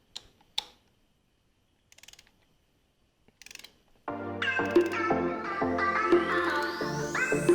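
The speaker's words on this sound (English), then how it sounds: "I'm going to come back here and torque the spark plugs into place." A torque wrench tightens the spark plugs on a Saab 9-3 during a valve cover gasket replacement, first a few sparse clicks, then a steady mechanical ratcheting whir with rising tonal squeaks, close and without talk.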